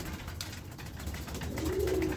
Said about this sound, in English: So I got the Sparks birds here, right?